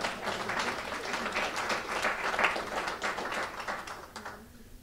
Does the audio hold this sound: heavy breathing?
no